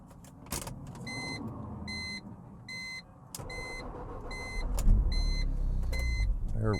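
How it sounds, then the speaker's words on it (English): A mid-2000s BMW sits with repeated chimes and beeps sounding through the cabin, then the engine turns over and catches into a low, steady idle rumble near the end. "let's get this thing started here"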